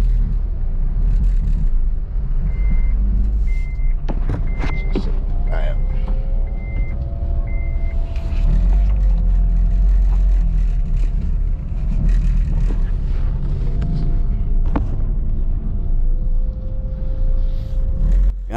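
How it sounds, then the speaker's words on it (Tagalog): A 2018 Honda Mobilio with automatic transmission on a road test, its steady engine and road rumble filling the cabin throughout, with a few short electronic beeps early on and people talking over the drive. "road test tayo mga boss sa Mobilio na ginawa natin yung automatic transmission"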